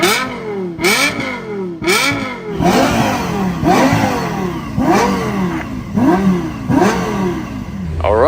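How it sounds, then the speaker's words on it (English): Lexus LFA V10 engine revving hard and fast, with repeated sharp rising-and-falling rev sweeps about once a second, loud and close, with no voices over it. "the V10 in this thing revs up so freely and so fast"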